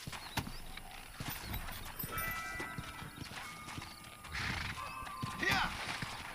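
Horse hooves clip-clop in Red Dead Redemption, an uneven run of soft hoof steps with a brief whinny and some mechanical clicks, fairly quiet behind other game sounds.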